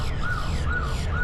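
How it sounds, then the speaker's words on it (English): An alarm goes off outdoors, sounding as a repeating warbling siren tone that rises and falls in quick regular cycles over a low steady background rumble. "I don't know what this alarm is going off here"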